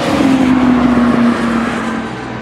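Cars drive past in a street in Łódź, one engine rising to a steady hum close by and then fading as it moves away, with traffic noise carrying on behind.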